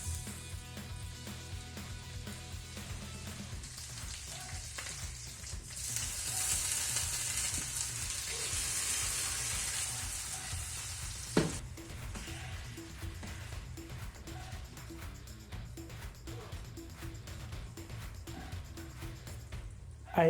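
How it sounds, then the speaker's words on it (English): Ingredients for a vegetarian pasta sauce fry in a pan, including lemon, tomato, butter and chili peppers, giving a steady close sizzle with occasional stirring clatter that runs the whole way, loudest near the middle. "We fried everything as shown in the video."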